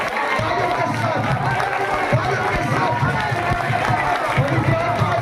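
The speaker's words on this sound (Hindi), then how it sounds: "जोर से तालियों के साथ" Congregation at a New Year celebration in a Deep Nagar church in Jalandhar claps loudly in a dense, continuous wash, with crowd voices and cheering mixed in throughout.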